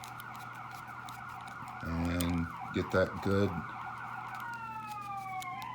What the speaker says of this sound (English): Sorry, you're going to hear some sirens.